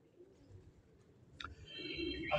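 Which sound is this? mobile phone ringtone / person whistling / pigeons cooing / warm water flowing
pigeons cooing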